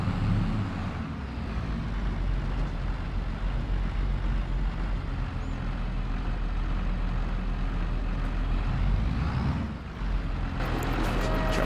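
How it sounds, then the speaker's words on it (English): A tractor engine in Farming Simulator 22 drones steadily while reversing, a continuous low mechanical hum with a brief dip near the end. "if I back the tractor in here, it'll be lined up to drive straight into the workshop"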